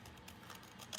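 Long scissors slicing through paper for a shaker card in one long cut, a faint close crisp rasp that ends in a slightly louder snip.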